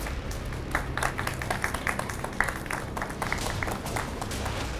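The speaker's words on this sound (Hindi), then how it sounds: "आपकी तालियों का साथ।" A television studio audience claps with fairly quiet, scattered applause and soft crowd noise, individual claps audible throughout.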